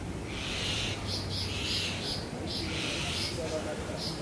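Birds call repeatedly from a distance in a suburban garden, bright bursts of high calls over steady outdoor background noise, with no speech.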